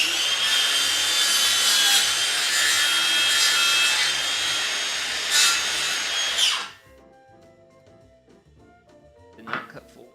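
A hand saw cuts cedar slats for a raised garden bed with loud, rhythmic rasping strokes up close for several seconds. It then stops abruptly, leaving near quiet and a brief scrape.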